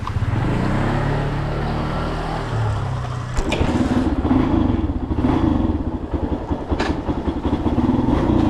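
A motorcycle engine runs with a clattering idle after stalling while hot, then revs up to a louder, uneven chug, close by with no talking.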